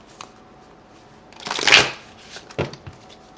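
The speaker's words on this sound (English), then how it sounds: "I'll go ahead and start shuffling for you guys." A quick burst of tarot cards being riffle-shuffled, followed by a few soft taps and flicks as the deck settles.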